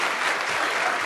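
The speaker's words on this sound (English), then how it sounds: "you could have clapped" Audience at a medical school honors convocation applauding in a hall, a dense burst of steady clapping with no voices over it.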